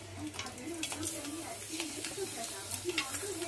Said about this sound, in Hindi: अब मैं इसमें डालूंगी 4-5 लहसुन और इसको सिम करके पकाना है।